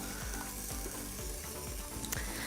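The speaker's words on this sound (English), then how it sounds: "we're just gonna cook up the steak now" Steak sizzling in olive oil in the bottom of an Instant Pot, a steady loud crackling hiss with occasional small pops and a faint scrape near the end.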